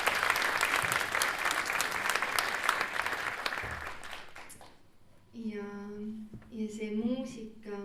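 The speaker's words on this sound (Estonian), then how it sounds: "Suur aplaus talle." Audience applause fills the first five seconds, dense and steady, honoring a lyricist at a concert. It then stops and a voice speaks over a quieter room.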